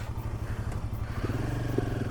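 A Royal Enfield Himalayan 450 motorcycle rides along, its engine a steady, close low thumping drone with a rhythmic pulse and faint clatter throughout.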